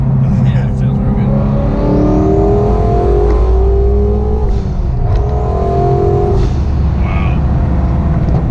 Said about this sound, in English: the engine still revs nice